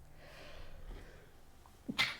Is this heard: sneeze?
yes